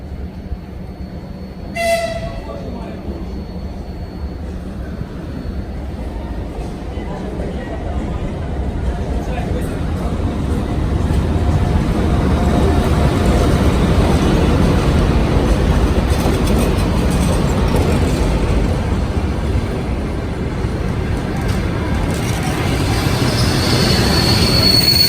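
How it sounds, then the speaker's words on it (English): A Ukrainian sleeper train rolls into a station, its rumble and wheel noise building steadily and growing loud, with squealing wheels, a brief high tone early on, and faint clicking over the rails. "As the train pulled in"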